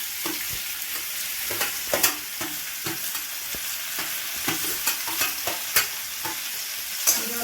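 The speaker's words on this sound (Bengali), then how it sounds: "জলপাইগুলো দিয়ে একটু নাড়বেন।" Indian olives (jolpai) being stirred and fried in a pan for chutney, a steady close sizzle broken by repeated scraping stirs of a spatula, with no voices.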